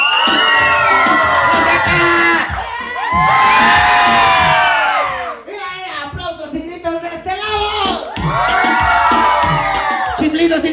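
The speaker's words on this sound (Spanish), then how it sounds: "Fíjate cómo se escucha el grito de mi lado" A crowd of children at a clown show shouts and cheers in long, loud swelling bursts. The bursts are separated by a brief quieter gap filled with mixed voices.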